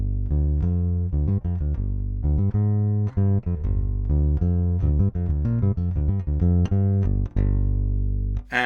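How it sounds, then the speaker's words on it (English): A passive 1986 Paul Reed Smith PRS Bass 4 played through its neck pickup gives a steady run of clear, plucked bass notes with rich harmonics that continue alone for the whole span. "And if we compare that then to the bridge, the neck pickup even, sounds like this."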